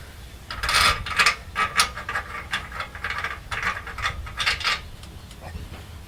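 A zero wobble bolt slides into the tow bar hitch receiver of a Mitsubishi Triton, making a series of close metallic scrapes and rubbing jiggles in uneven bursts, moderately loud.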